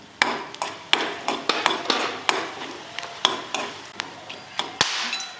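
Coriander seeds are dry-roasted in a pan, stirred with a utensil that knocks and scrapes at an uneven beat, giving a string of sharp clicks and taps over a faint background sizzle.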